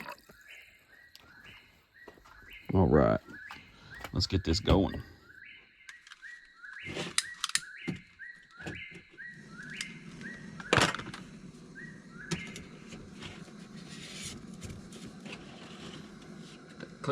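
A bird sings repeated short, bright chirping phrases in a steady rhythm at an Ozarks campsite, running throughout over the sounds of someone moving around, with a brief spoken line and thumps and rustles of gear nearby.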